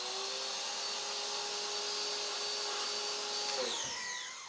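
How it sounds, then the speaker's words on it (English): Machine running during a spray nozzle pressure test, a loud, steady motor whine that holds constant throughout and then begins to wind down near the end. "You hear the machine."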